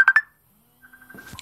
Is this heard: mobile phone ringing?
yes